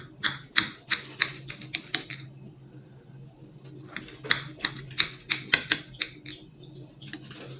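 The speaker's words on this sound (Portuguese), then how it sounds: "Vou cortar agora aqui um pedacinho." A knife slices into a low-glycemic apple pie, giving a series of close, sharp clicking taps against the dish in two bursts, quiet between them, with no talking.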